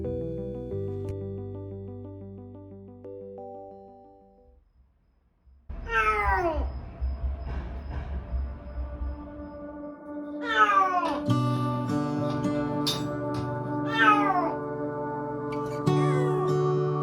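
Feral cats meowing: a few drawn-out meows and then a run of repeated, overlapping cries close by, after a quiet opening of soft, steady musical tones.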